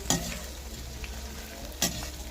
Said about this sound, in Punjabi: ਪਹਿਲਾਂ ਆਪਾਂ ਤੇਲ ਦੇ ਵਿੱਚ ਕਰੇਲਿਆਂ ਨੂੰ ਫਰਾਈ ਕਰਾਂਗੇ ਤੇ ਹਲਾਈ ਜਾਵਾਂਗੇ